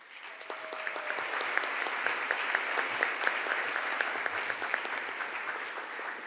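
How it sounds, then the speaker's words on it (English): Sustained audience applause for Mayor Bowser at a community meeting on the future of the RFK Campus, a dense steady clatter of many hands, moderately loud and continuous throughout. "Let's give Mayor Bowser another round of applause for sharing her vision."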